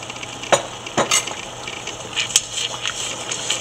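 A spoon stirs sugar into a boiling mango coconut jelly mixture in a pot, with a few distinct scraping strokes over a steady bubbling sizzle.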